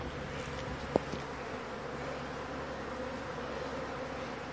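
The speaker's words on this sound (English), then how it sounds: "if bees are hanging out on the outside like this, I'll need to smoke them in" Honeybees buzz continuously around a mobile home in Florida, a dense, steady outdoor hum with one brief sharp knock early on.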